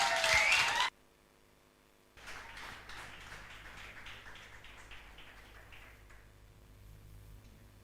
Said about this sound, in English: Please put your hands together in applause for Nduku Louis Tebi